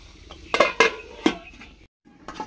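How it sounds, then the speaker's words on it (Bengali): A metal lid set onto a cooking pot of rui fish curry with potatoes. A few sharp clanks and rattles come up close, then brief silence and a faint clink. "আর ঢাকা দিয়ে দিচ্ছি।"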